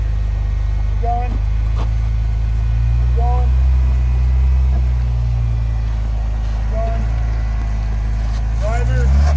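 An off-road vehicle rumbles loudly and steadily at low speed on the Black Diamond OHV trail at Lower Larga Flats, its engine note rising and falling as it crawls, with short voices calling out over it.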